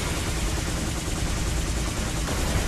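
Dense, continuous rapid gunfire in the video game P.N.03, loud and unbroken with no gaps for its whole length.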